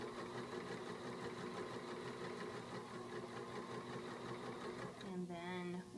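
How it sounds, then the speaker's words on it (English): A sewing machine stitches fabric with a steady, rapid mechanical whir that runs continuously, then shifts pitch briefly near the end. "And we're going to continue stitching."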